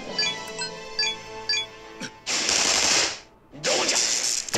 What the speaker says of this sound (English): We're still gonna fire the gun.